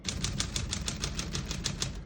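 Keys on a 1937 Corona Sterling portable typewriter strike in a fast, steady run of about a dozen crisp, close clacks, with no voices over them.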